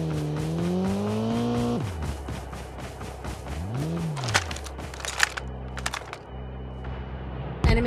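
Vehicle engine in Call of Duty Mobile, a droning motor whose pitch rises and falls as it revs and passes, followed by scattered sharp gunshots and impacts, fairly faint overall.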